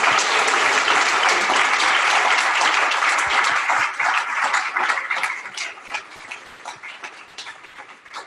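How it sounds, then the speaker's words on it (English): Applause from an evening forum audience, steady and dense at first, then thinning into scattered claps as it fades toward the end. "let's just give Janine another round of applause"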